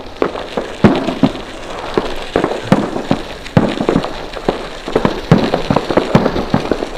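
Fireworks rockets and firecrackers popping in a rapid, irregular series of sharp cracks and bangs, some louder and nearer, others distant, continuous throughout with a crackling background.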